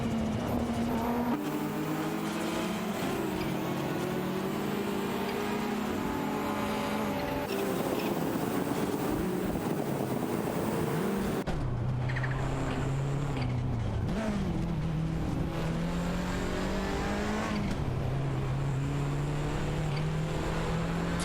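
Racing-game cars, among them a Mercedes-Benz 190 Evo and a Ferrari 288 GTO, drone with loud engines that rise and fall in pitch through gear changes as they compete, a continuous overlapping roar.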